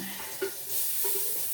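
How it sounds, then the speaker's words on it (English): Tomato soup simmers in a pot with a soft, uneven sizzle and bubbling, close and moderately loud, with a brief stirring clink and no talk. "bubbling away"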